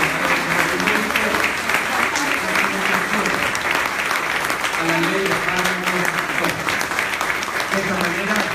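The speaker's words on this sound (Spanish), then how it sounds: "Brindemos un fuerte aplauso a la firma." A crowd gives a sustained round of applause at an official ceremony where the health minister signs amendments to a drug-pricing law. The clapping is loud, dense and steady throughout, with some voices mixed in.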